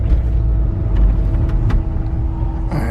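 Subaru-engine-swapped VW Vanagon driving on the road, its steady low engine rumble and road noise continuous and close throughout, with a brief brighter burst of noise right at the end.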